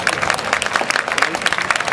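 A stadium crowd gives loud, dense, continuous applause for the eight finalists of a boys' 110 m hurdles final at a Chiba prefectural high school athletics meet.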